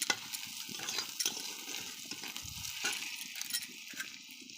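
Onions fry in a pan with a soft, steady sizzle and crackle, broken by faint scrapes and light clinks of a utensil stirring against the pan.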